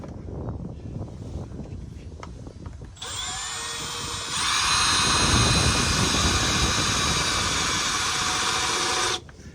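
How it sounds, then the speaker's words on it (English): A power drill whines steadily, its pitch rising as it bites harder and then holding for several seconds before cutting off, loud and close, while installing a side step on an Owl Sprinter van. "you don't want to put a ton of pressure on this as you drill it"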